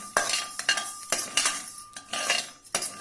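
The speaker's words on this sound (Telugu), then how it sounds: "ఆవాలను కూడా వేయించుకుంటున్నాను సన్నని మంటపై వేయించుకోవాలి" Mustard seeds roast in a pan over a low flame while a metal spoon stirs them, giving repeated close clinks and scraping strokes in an uneven rhythm, with no voices.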